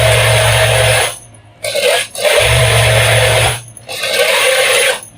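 An electric sewing machine stitches a gents shalwar in loud, steady bursts, running for about a second or more at a time, with short quiet pauses between runs.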